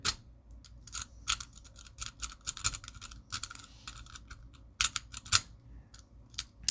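A lock pick raked in and out of a disc padlock gives a fast, irregular string of sharp metallic clicks and scrapes, close and clear, in uneven bursts.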